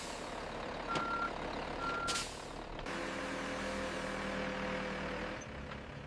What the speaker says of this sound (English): The Scotch whisky grain truck arrives for loading.